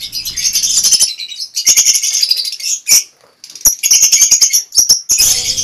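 Lovebirds in a breeding cage give bursts of sharp, high chirps and rapid twittering, loud and close, with brief pauses between flurries.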